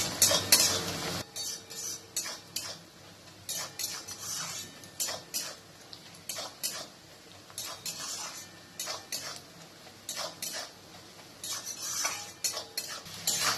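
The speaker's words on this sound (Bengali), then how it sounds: "আবার একটু ভাজবো।" Onions frying in a pan for mutton curry, stirred with a metal spoon that scrapes and clinks repeatedly against the pan over a soft sizzle, no voices.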